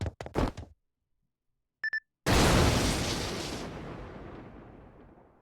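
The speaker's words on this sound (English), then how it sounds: "An explosion?" A massive explosion in the video game Fate/Grand Order: a few sharp bursts and a brief tone, then a sudden loud blast that rolls on and slowly fades.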